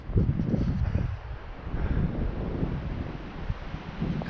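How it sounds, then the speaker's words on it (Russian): Strong, roaring hurricane-force wind in the taiga blasts the microphone with steady, heavy rumble and gusty surges, drowning out everything else in an open spot outdoors. "Ураганной силы ветер."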